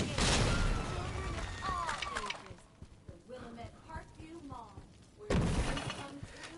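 A rocket launcher fires in Dead Rising Deluxe Remaster with a loud blast and crashing debris at the start, then a second heavy boom near the end, game noise and scattered impacts between.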